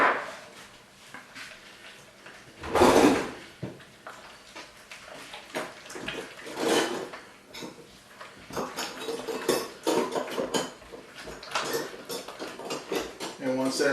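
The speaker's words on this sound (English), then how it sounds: "Give that a stir." Metal utensil stirring yellow crookneck squash with dried thyme in a pot, giving scattered scraping and clinking taps, one louder clatter early on, at close range with no voices.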